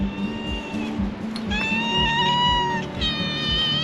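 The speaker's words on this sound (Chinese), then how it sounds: "又遇见刚那只猫咪了。" A stray cat in an old village lane beside an abandoned house meows several times, close and insistent, over soft rhythmic footsteps.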